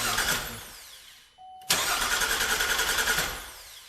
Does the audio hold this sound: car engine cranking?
yes